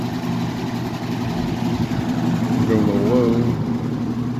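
A vintage Edison model 204001B thin and lite electric fan runs on high with a steady motor hum and a loose, buzzing rattle, partly from its handle, while someone speaks briefly over it.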